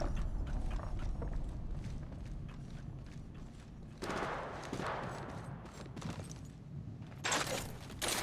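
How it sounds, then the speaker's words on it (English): Weapon reloading in the Apex Legends Mobile video game, a sequence of close mechanical clicks, clacks and metallic handling noises, with sharper bursts of activity partway through and near the end. "Reloading"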